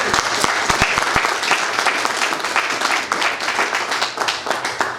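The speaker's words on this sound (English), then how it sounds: "Let's give her a big round of applause." A crowd applauds steadily at a ribbon cutting for the grand opening of Bookish, a bookstore in Modesto. Dense, continuous clapping with a few sharp, close claps stands out near the start.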